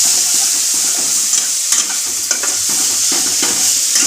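Chicken pieces sizzling loudly in a hot pan while being stirred, a steady frying hiss with repeated scraping strokes of the spoon against the pan, close and continuous with no talk.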